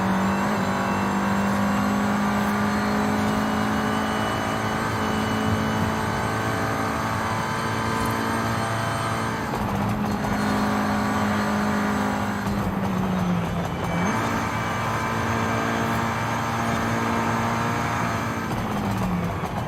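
A 2014 Volkswagen Golf R engine drones loudly and steadily while driving, its pitch holding level then dipping and climbing again through gear changes, continuous close-up engine noise with no talk.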